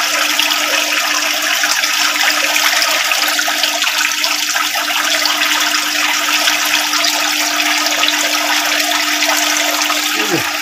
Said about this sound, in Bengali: যে ফুটো করে দিয়েছি একটা পাইপে, জল কন্টিনিউ বেরোতে আছে।